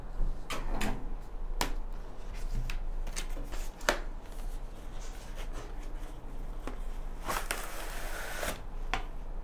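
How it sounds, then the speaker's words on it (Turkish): Tape peeled and torn off the box of a Xiaomi Wicue 11-inch LCD drawing tablet, a series of close crackling rips and rustles with brief bursts, no speech. "Hemen şuradaki bandı sökerek başlayacağım."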